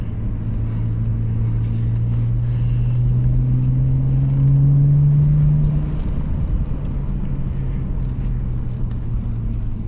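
Steady engine drone and road rumble from inside a car on a road trip near a border area, with a rising tone in the middle as it speeds up and wind noise throughout; no talking.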